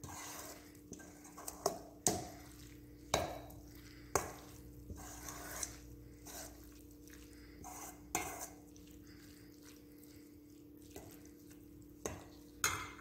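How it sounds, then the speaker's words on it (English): A spoon stirs a shrimp and crab mixture with green onions, scallions and parsley in a bowl, giving repeated sharp scrapes and clinks at an irregular rhythm over a quiet steady hum, close and fairly faint. "Give that a stir."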